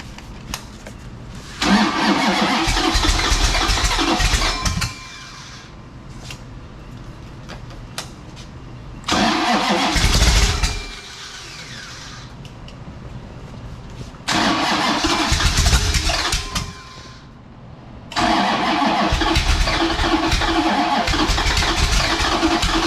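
A rebuilt 440 Six Pack V8 is cranked and started repeatedly, four loud bursts of starter grind and catching engine roar separated by quieter pauses, close by.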